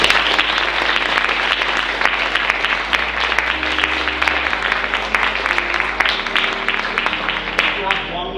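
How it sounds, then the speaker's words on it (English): Warm, sustained round of applause from a live audience, dense and steady with many hands clapping at once, loud and continuous throughout. "open up your eyes to this warm round of applause"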